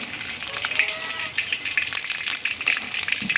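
Hairtail fish pan-frying in oil, a steady crackling sizzle with sharp spitting pops throughout, close and fairly loud, with no voices.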